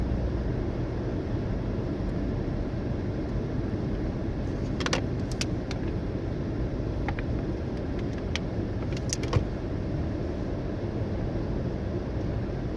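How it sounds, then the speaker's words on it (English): Car cruising slowly in afternoon traffic on the Baltimore Beltway, a steady broadband road and engine rumble heard from inside the cabin, with a few faint clicks and jingles over the constant drone. "Stuck in Baltimore traffic."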